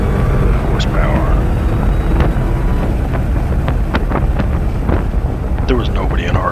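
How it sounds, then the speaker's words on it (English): A supercharged 700-horsepower Dodge Charger accelerates down a track straightaway, its engine a loud, steady roar thick with wind buffeting across the microphone. "that supercharger just kicks in at 700 horsepower"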